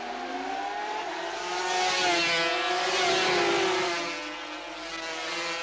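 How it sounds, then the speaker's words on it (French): Suzuki factory racing motorcycles roar past at Spa in a sustained high-pitched engine wail that swells louder and then fades slightly, with no voices over it. "suivi par Will Hartog, bien décidé à profiter de cette Suzuki d'usine"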